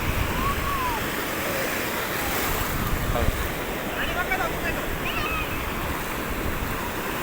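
Surf pounds the shore at Puri beach at high tide under strong wind, a steady loud roar of breaking waves and wind buffeting the microphone, with faint voices and cries scattered in the background.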